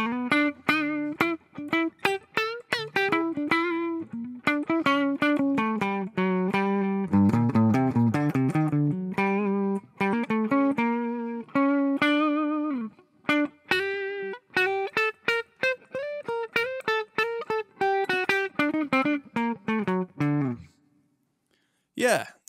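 An electric guitar through a Fender Twin Reverb and closed-back 1x12 cabinet impulse response plays a steady run of clean, ringing chords and single notes, bathed in a roomy reverb that lets each note trail off.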